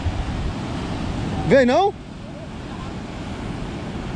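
Sea water surges and washes into a rock crevice on a rocky fishing shore, a steady loud roar of surf with wind buffeting, while a voice briefly calls out over it.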